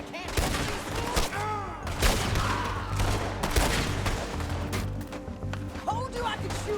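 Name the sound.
gunfire in video game Red Dead Redemption 2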